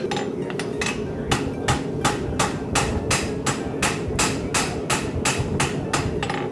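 A farrier's hammer rings out striking a horseshoe on an anvil in a steady, fairly quick rhythm, about a dozen or more sharp clanging strikes, close and clear.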